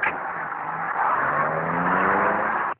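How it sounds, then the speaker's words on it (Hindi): A car pulls away and drives off, its engine note rising steadily as it accelerates, with a sustained road and tire rush that stays loud for nearly three seconds before cutting off abruptly. No one speaks. "हाँ, गाड़ी चलाओ ड्राइवर।"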